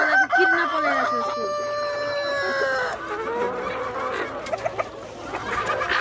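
Rooster crowing with long harmonic calls over a steady background of chickens clucking, all fairly near and loud on a rural farm; the crowing fades and scattered clucks and fowl noises continue.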